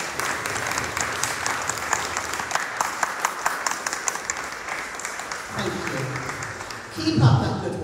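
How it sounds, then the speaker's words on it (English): A church congregation at a Sunday service applauds the fathers, a sustained round of many hands clapping at moderate distance, with voices and louder murmuring rising toward the end. "You deserve a round of applause for the good job you're doing."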